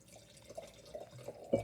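Frank Family 2023 Carneros Chardonnay trickles from the bottle into a wine glass in a few faint, soft splashing and dripping bursts, with the last gurgle slightly louder near the end.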